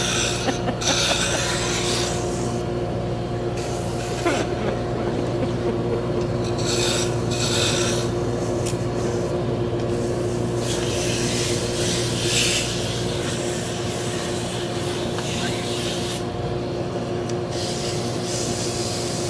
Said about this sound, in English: So I'm actually sanding a Turkish drop spindle.